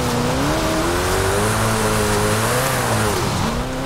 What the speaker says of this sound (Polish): tutaj dodaję gaz, nie?